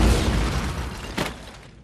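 A cannon fires in a small-business loan commercial, a loud broad boom that fades away over about two seconds, with a second smaller burst near the end.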